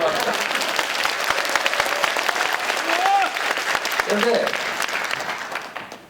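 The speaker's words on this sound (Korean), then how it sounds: "박수 한번 해봐" An audience at a political lecture by the Seongnam mayor and presidential candidate gives a dense burst of applause that swells and holds, then fades near the end, with a voice speaking briefly over the clapping.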